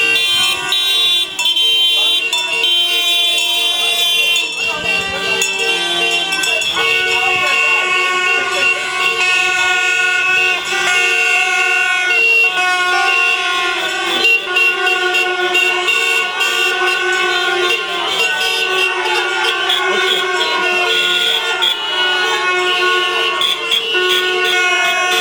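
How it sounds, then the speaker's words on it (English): Vehicle horns honking in a teachers' street protest, a dense overlapping chorus of sustained and repeated toots from many cars and trucks, loud and continuous throughout. "The horns of vehicles honked on Thursday as teachers once again tried to get the message across."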